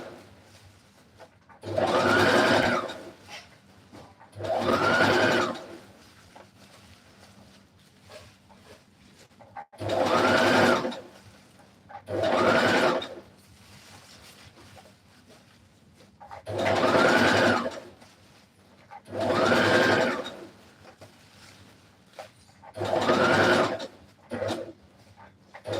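A sewing machine stitches a seam on a short bubu dress in repeated bursts of a few seconds each, with brief quiet gaps between runs, close and steady, and no talking.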